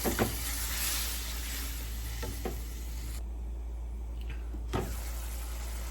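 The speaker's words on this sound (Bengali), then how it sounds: "এখন মশলাটা মিশিয়ে ভালো মতো কষে নিই" Spice masala with ginger-garlic and turmeric water sizzles softly in a pan for a fish curry with peas and new potatoes, while a spatula scrapes and knocks against the pan a few times.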